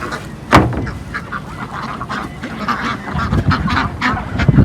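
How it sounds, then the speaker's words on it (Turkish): Farm ducks quack busily while being fed, a close, overlapping clamour of honking calls with one sharp loud squawk early on and the chatter building toward the end. "Ördeklerimizi yedirmeye devam ediyoruz."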